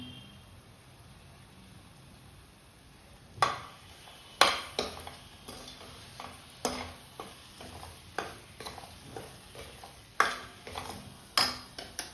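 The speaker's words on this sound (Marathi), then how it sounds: "हा मसाला छान परतून घ्यायचा" Masala with coriander being stirred and sautéed in a pan for a spicy cashew curry, a low steady sizzle broken by repeated sharp scrapes and clinks of a spoon against the pan, close and alone.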